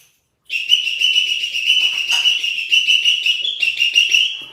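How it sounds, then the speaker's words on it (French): A whistle is blown in one long, loud, shrill blast lasting about four seconds, wavering slightly in pitch, at a Cameroon football stadium, the Olembe stadium, with no talk over it. "Attendez, prends le sifflet d'abord. Je prends le sifflet."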